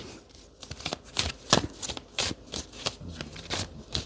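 Tarot cards being shuffled by hand in repeated riffling bursts, each a crisp papery flutter, close and steady over a few seconds with no talking.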